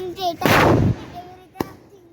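A Diwali firecracker goes off close by with a loud, half-second roaring burst, and a sharp crack follows a second later amid faint background voices.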